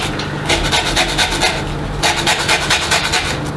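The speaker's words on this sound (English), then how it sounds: "Just going to zest the orange." Orange zest is rasped on a grater in steady, rhythmic back-and-forth strokes, close and loud, pausing briefly midway before the scraping resumes.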